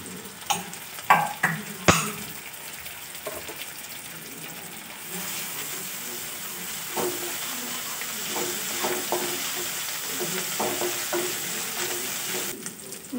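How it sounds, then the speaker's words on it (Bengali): Onion, garlic and ginger paste fry in a pan with a continuous soft sizzle, punctuated by a few loud spoon knocks early on and lighter stirring scrapes throughout, with no talk. "পেঁয়াজ রসুনটা একটু ভালো করে ভেজে নেব।"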